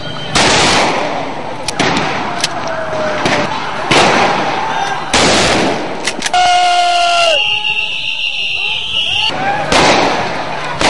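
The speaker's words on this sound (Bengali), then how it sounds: "শাপলা চত্বরে ঢুকেই ফাঁকা ফায়ার করে হেফাজত কর্মীদের ছত্রভঙ্গ করার চেষ্টা করে আইন শৃঙ্খলা বাহিনী" Blank shots fired by security forces to scatter a crowd at a city square: repeated loud, sharp gun reports in irregular bursts, mixed with crowd noise, shouting and a rising siren-like wail.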